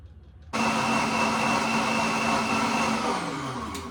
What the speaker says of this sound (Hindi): नाउ टेकिंग सम दूध की थैली को अच्छे से धो लेते हैं.